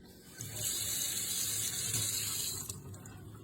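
Water gushes from a sink faucet to wet hands before working sourdough. The steady rush starts about half a second in, holds evenly for roughly two seconds, then cuts off, leaving quiet room tone.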